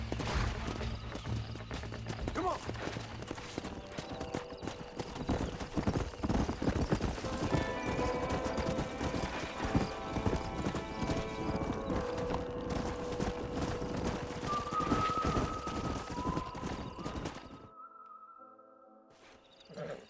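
Horse hooves clip-clop steadily in Red Dead Redemption 2, a stallion walking over ground while music and ambient game sounds play, before the sound drops away near the end.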